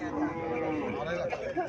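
A Haryana dairy cow, a breed giving about ten kilograms of milk a day, lows steadily at a cattle sale while people chatter close by.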